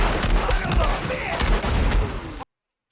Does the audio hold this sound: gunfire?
yes